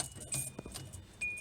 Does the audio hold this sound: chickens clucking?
no